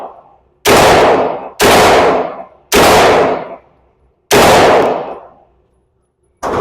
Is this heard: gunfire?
yes